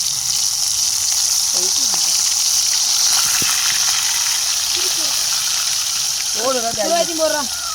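Four kilos of crab frying in pure cold-pressed oil, a loud steady sizzle throughout with brief voice-like sounds breaking through near the end.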